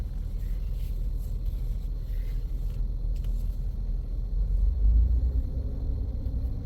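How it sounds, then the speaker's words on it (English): A four-wheel-drive used car in a parking lot gives off a low, steady rumble from a suspected front differential fault, swelling briefly louder partway through, with no talking. "Maybe it's got a problem with the front diff because I hear a little rumbly type noise just in the parking lot."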